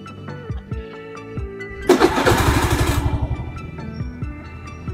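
A Honda Genio scooter engine cranks and catches with a loud burst, then settles into a steady pulsing idle, with music playing quietly throughout.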